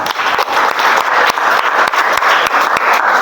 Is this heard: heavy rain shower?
no